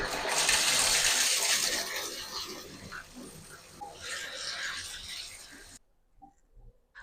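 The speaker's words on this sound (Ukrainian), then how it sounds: "І так само з краном для душу. Тобто він отут виглядає ось так, просто крутиться по колу" Water gushes steadily from a shower tap, loud at first, then easing before cutting off abruptly near the end.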